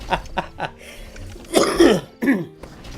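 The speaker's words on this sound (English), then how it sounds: "Coughing makes me hack, or laughing makes me cough." A man on a livestream breaks into several hacking coughs and throat-clearing bursts, a few short ones followed by a heavier, longer fit, close to the microphone.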